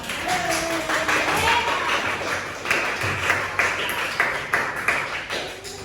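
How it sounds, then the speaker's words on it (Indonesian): A classroom of students gives a round of applause for the class, a dense patter of claps filling the room for several seconds with some ringing tones and voices mixed in. "Beri tepuk tangan untuk kita semua"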